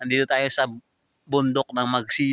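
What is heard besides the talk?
No everyday noise stands out behind the speech.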